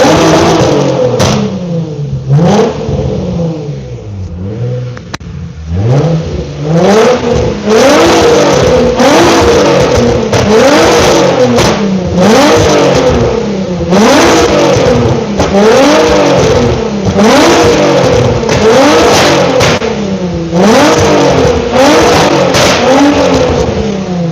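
Nissan VQ twin-turbo engine in an Infiniti Q50 drift car revving hard out in the dirt, loud and close with repeated rising and falling revs throughout.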